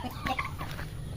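Pet turkeys roaming a banana farm cluck in a few short, faint calls close together, heard over quiet outdoor background.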